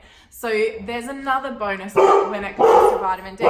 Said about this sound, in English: Sorry about my dog.